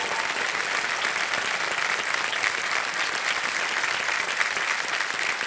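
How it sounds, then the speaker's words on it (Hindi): A studio audience claps steadily and warmly, a dense, even wash of many hands sustained at constant loudness without voices standing out. "तालियां बज जाए इनके लिए।"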